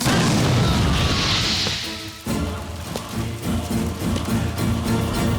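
A loud explosive bomb blast at a farmhouse, a boom with crashing debris, followed by rumbling and scattered clattering as the blast settles.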